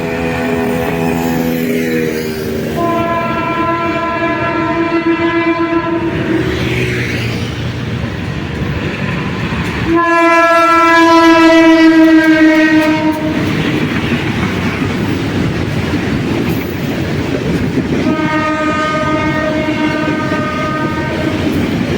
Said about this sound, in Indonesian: Ini membawa rangkaian panjang teman-teman dengan livery kereta penumpang masa ke masa.